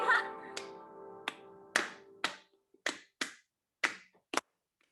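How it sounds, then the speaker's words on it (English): Hands clap in a slow, steady beat during a children's alphabet singing activity, about nine crisp, close claps spaced roughly half a second apart, with a brief sung tone at the start. "All right, let's clap our hands."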